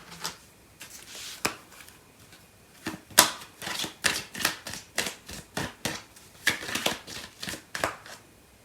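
Tarot cards being shuffled by hand, a series of crisp riffling and tapping bursts in an irregular rhythm, close and fairly quiet, with no talking.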